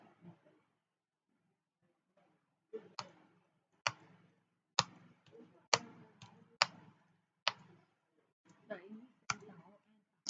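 Computer keyboard keys are pressed while typing a letter in Word, sparse separate clicks at uneven intervals, faint and close in a quiet room.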